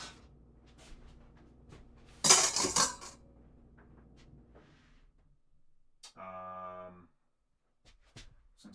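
Metal utensils and a whisk clatter against dishes in a home kitchen while gathering things for pancakes and bacon, one loud jangling burst near the middle, then a short tonal scrape and quieter clinks.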